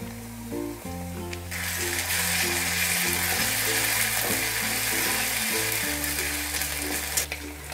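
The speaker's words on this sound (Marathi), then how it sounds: "आता त्याच्यामध्ये ना 1 चमचा अद्रक लसणची पेस्ट टाकायची आपल्याला" Ginger garlic paste hits hot oil in a pan of brinjal over high heat, bursting into a loud, steady hiss that continues under background music.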